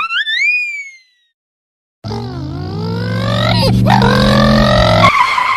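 A cartoon car accelerates hard from a standstill, its engine note climbing steadily and loudly over several seconds with a brief tire squeal, following a short silence after a voiced whoop.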